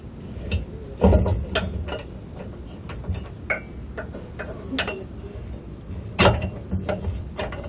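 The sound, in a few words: truck bed extender secured with hitch pin clip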